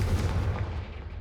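A Confringo blasting curse explodes in Hogwarts Legacy, a booming blast with a heavy low rumble that dies away over about a second.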